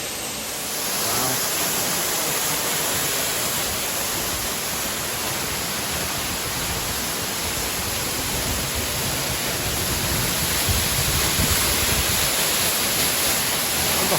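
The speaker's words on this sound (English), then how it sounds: "about to go behind the water" Waterfall at Henrhyd Falls in Wales, heard from behind the falling water as a loud, steady broadband roar and rush, continuous and close throughout.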